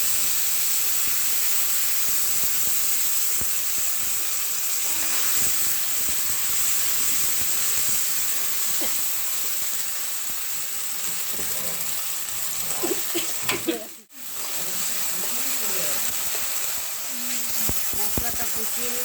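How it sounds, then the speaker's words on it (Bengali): A steady, loud hiss of oil frying garlic, onion and ginger paste with cinnamon, cardamom and panch phoron runs throughout, broken by a brief dip near the end, while faint stirring sounds come through underneath. "মশলাটা কষিয়ে নিচ্ছি"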